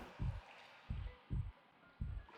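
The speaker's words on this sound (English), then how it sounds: "Sounds disconcertingly like a heartbeat in the background." A soft, muffled heartbeat-like thumping from Baten Kaitos Origins, four low, evenly spaced double-thuds pulsing in the background with faint ambient tones.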